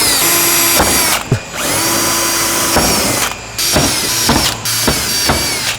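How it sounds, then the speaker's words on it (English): A power drill with an 8mm bit whirs loudly in several bursts, pre-drilling holes for a splitter on a Hyundai i30N hatch, stopping and restarting between holes, with brief pauses and clicks. "now that we've pre-drilled all the holes with the 8mm bit"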